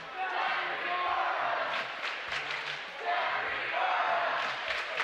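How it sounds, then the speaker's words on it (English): A high school basketball crowd in a gym claps and yells a coach's name in a sustained roar of cheering, with rhythmic shouts and clapping swelling in waves. "Now the crowd is calling out Coach Burroughs' name, clapping and yelling"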